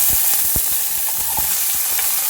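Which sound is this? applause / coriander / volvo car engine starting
coriander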